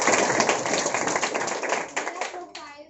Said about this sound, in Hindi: तो जोरदार तालियां हो जाए इन दोनों के लिए।